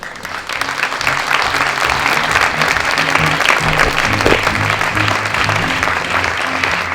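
A hall audience applauding after a speaker is introduced at a watchmaking history event, loud sustained clapping from many hands over faint background music.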